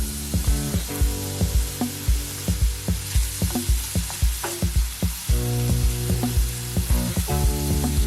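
Onion and bell peppers sizzle in hot olive oil while a utensil stirs and scrapes the pan in quick, irregular strokes, steady and close.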